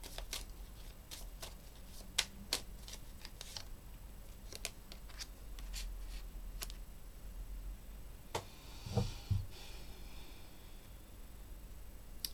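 Tarot cards being shuffled and handled close by at low volume, soft papery riffles and scattered crisp taps and flicks, with a slightly louder rustle toward the end.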